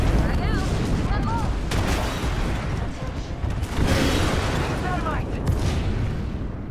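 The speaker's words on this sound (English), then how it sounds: "Heads up, we got an airstrike on us." Airstrike explosions in the Apex Legends video game, a string of heavy booms and rumbling impacts over continuous gunfire-like noise, with voices talking throughout.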